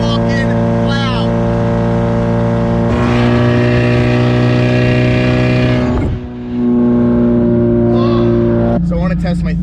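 A very loud Mazda Miata exhaust drones and revs, holding a harsh, buzzing idle, surging sharply, dropping briefly, then roaring up again; a voice shouts over it.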